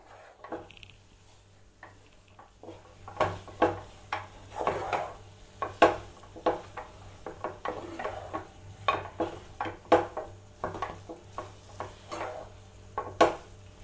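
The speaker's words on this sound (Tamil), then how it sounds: "ஒரு 2 நிமிஷம் இந்த மாதிரி கிளறி விட்டுட்டே இருங்க." Kozhukattai dough being stirred in a pan for sweet pidi kozhukattai, a steady run of scraping, clinking spoon-on-pan strokes with a faint sizzle, close and moderately loud with no talk.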